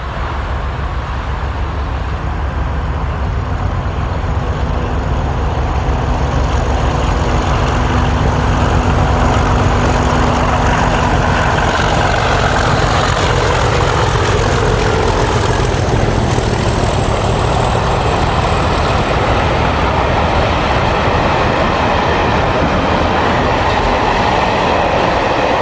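British diesel locomotives 37609 and 218 hauling a charter train, a loud steady roar of engines and rolling wagons sustained throughout, close by with no voices.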